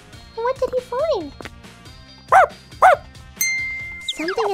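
A rescue dog out in a park gives a couple of sharp, close barks amid whines and yelps, with people talking over and between the calls.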